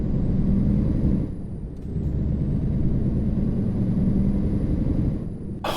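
A V8 truck engine in Euro Truck Simulator 2 gives a loud, steady low growl with a brief dip in the middle and a faint high whine over the top, with no talking.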